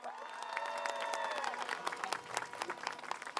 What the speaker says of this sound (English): Let's get another round of applause for Zelly and BLM Patterson.